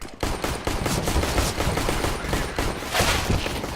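A decoy grenade in Counter-Strike: Global Offensive fakes gunfire, with rapid bursts of automatic shots rattling on continuously for several seconds at close range with no talk.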